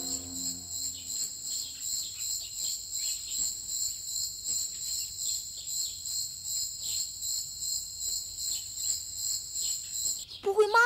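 Steady, continuous chirping of a grasshopper in an animated cartoon, a dense high pulsing trill that runs loud and unbroken for about ten seconds before a brief different sound cuts in at the end.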